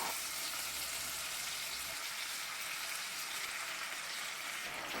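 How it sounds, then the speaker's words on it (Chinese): Ginger, garlic, onion and tomato crackle in hot oil in a wok, a dense, even hiss of frying that holds steady with no talking. "下入姜蒜，爆香后放入洋葱、番茄，翻炒一会"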